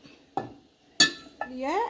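A lid goes onto a clay pot of Jaffna-style fish curry with a couple of quick clinks and knocks, followed by a brief murmur of voice.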